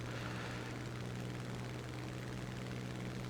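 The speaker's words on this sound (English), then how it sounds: "next up, let's go for the Typhoon" A Hawker Typhoon Mark 1 fighter bomber drones steadily in War Thunder, its piston engine and propeller giving a constant, even hum with no voices over it.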